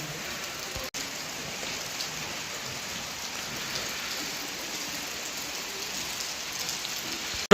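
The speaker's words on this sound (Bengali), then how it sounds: "বৃষ্টি হচ্ছে আর প্রচণ্ড ঠান্ডা" Steady rain falls in the cold, misty Darjeeling hills, a soft, even hiss of drops on surfaces that continues throughout with no voices.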